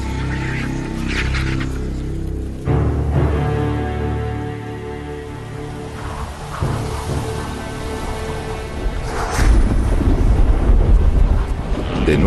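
Strong wind gusting across open savanna grassland in Africa, a steady loud roar with rumbling low gusts that swell and build toward the end, with no voices.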